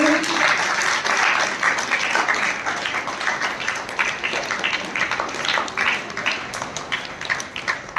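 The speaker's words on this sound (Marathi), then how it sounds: "थोडा टाळ्या वाजवायच्या सर्वांनी" Audience at a school gathering's felicitation ceremony breaking into loud sustained applause, many hands clapping continuously and slowly tapering off toward the end.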